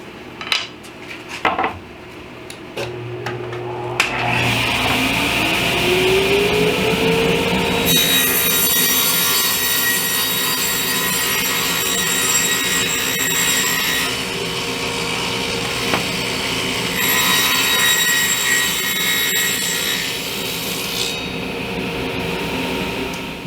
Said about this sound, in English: Now I'm going to cut my dado on the back here